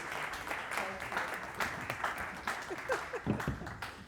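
Keynote luncheon crowd at a business summit keeps applauding the speaker, a fairly quiet, continuous patter of many hands, with a voice briefly speaking over it near the end.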